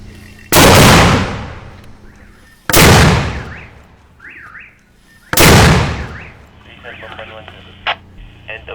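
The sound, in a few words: army mortar being fired into enemy territory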